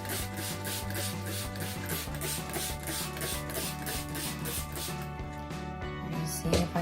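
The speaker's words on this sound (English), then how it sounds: "I'm just using a scraper. It's actually a putty knife." A putty knife scrapes sprayed-down wallpaper off a laundry-room wall in a run of repeated rasping strokes, close and steady, with a faint background hum and a low tone beneath.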